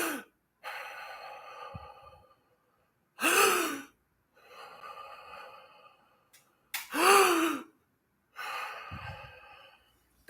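Breathing exercise of shallow inhales and long exhales, heard as sharp gasping intakes alternating with drawn-out sighing breaths, close and alone with silent pauses between them.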